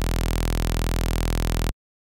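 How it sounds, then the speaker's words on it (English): A buzzy synthesizer saw wave with its polarity reversed by a convolver plays as a steady, loud, harmonic drone, then cuts off sharply into silence. "reflection saw wave."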